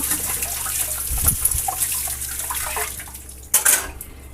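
Water runs steadily from a kitchen tap opened to medium while washing dishes, with a constant hiss broken by a couple of brief clinks and splashes.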